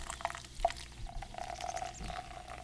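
Sprite being poured into a green cup indoors: a soft, steady fizzy stream of liquid with faint trickling and a few small clicks, quiet and close, with no talk over it.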